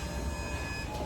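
A cruise ship's forward lift on deck 14 gives off a struggling, dying noise: a steady, dense low rumble and grinding whine, close and continuous, with no voice over it.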